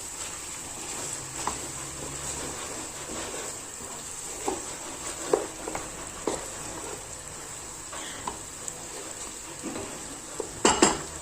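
Spinach sautéed with pistachio paste being stirred in a pan, with soft scraping and occasional utensil clinks against the pan over a faint steady hiss.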